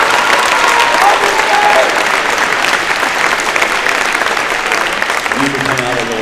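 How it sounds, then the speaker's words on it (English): Loud, dense audience applause at a high school Veterans Day celebration for veteran Dave Schmelzer, a continuous roar of many hands clapping throughout, with faint voices under it near the end. "So if we can all give him a round of applause."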